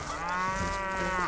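A single drawn-out cow moo from the video game Stronghold, a clear, tonal lowing call held steady for over a second with no voices over it.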